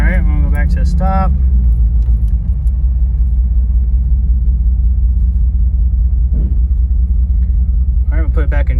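A Jeep Wagoneer with an LT4 engine creeps along at about 10 mph in third gear, its low engine rumble steady and close throughout, with a person talking briefly at the start and again near the end.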